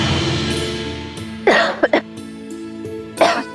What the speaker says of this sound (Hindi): देखा नहीं कितना खांस रही है।